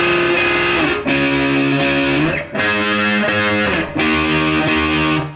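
An electric guitar plays the intro riff of a song with a gritty distorted tone, strumming loud, steady chord hits in repeating phrases.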